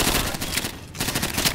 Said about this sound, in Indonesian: Aduh, pistol bisa nih gua sama combine ini.